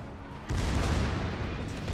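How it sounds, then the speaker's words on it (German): Secondary guns of the battleship Oklahoma firing in the naval game World of Warships, a sudden dense roar of overlapping booms that kicks in after a quiet start and rumbles on steadily to the end. "Und jetzt sind alle Secondaries am Ballern."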